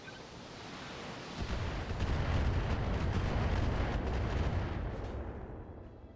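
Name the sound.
mech firing a full missile salvo in video game BattleTech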